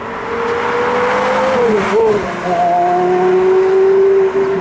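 A Porsche Carrera GT engine sounds close and loud, its tone rising and dipping as the revs change, then holding a strong steady note before cutting off.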